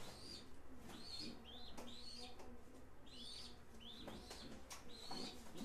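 A big pigeon cooing nearby in a steady, repeating series of soft, rolling coos with faint chirps, continuing throughout the clip.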